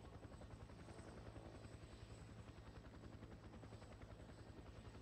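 Helicopter in the Fear The Wolves video game, a steady rhythmic rotor thump with a droning engine hum, continuous and fairly faint, with no talking.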